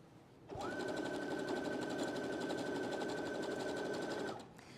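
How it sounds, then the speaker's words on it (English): A sewing machine stitches over a hem with elastic, starting abruptly and running at a steady fast whir for about four seconds before stopping, close and loud with no talking. "I'm stitching exactly over that hem"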